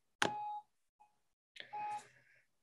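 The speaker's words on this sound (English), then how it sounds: "Pardon the car alarm in the background." Car alarm sounding in the background outdoors: two separate bursts of high electronic beeping with a short blip between them, set against near silence.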